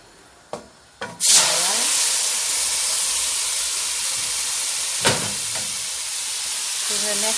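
Fish dropped into a hot pan for a seafood choucroute gives a loud hiss that swells into a steady sizzle, with a few clatters at the start and a brief sharp spit partway through.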